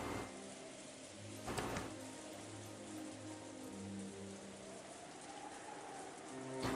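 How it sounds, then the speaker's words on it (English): Steady rain pattering on surfaces with a low wind wash throughout, heard in the Umineko game, faint and constant with a brief louder gust or splash near the start and no voices. "a quiet sound of the continuing wind and rain"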